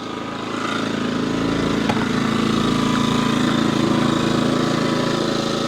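Portable generator running right up against a camper, a steady loud engine drone with a constant hum that holds level throughout, no voices.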